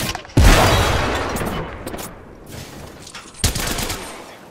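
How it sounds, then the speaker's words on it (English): A grenade blast and bursts of automatic gunfire from the Apex Legends battle royale game, loud and close, with a sharp explosion near the start and another heavy burst later amid continuous rattling shots. "Look out, grenade!"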